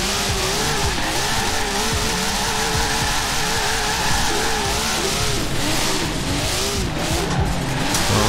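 A 370 sports car with a swapped engine (stock V6) is driven hard in Forza Horizon, its engine roaring loudly and continuously while the tires squeal and skid throughout.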